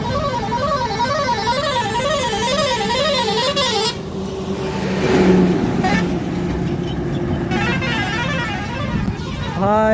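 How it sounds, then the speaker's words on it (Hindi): Heavy road traffic on an uphill road, with a steady rumble of cars, buses and trucks and repeated warbling, wavering horn blasts up close, along with bursts of louder engine noise and occasional voices. "यहाँ पे बहुत ही ट्रैफिक हो रही है"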